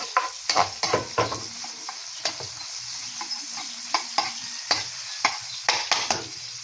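Red onion frying in a pan for fried rice: frequent scraping strokes of a spatula over a low sizzle, close and fairly quiet, with brief pauses between the stirring bursts and no voices.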